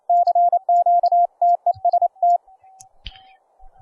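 A code practice oscillator sounds a clean sine-wave tone keyed in Morse code, a rapid series of crisp beeps and dashes that stops, leaving a faint lingering tone and a click.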